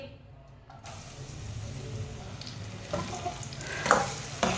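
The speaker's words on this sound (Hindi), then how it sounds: "एक बारीक कटा हुआ प्याज डाल लेंगे।" Finely chopped onion hits hot oil in a pan and fries with a steady, close sizzle, with stirring clatter building toward the end and a brief voice in the background.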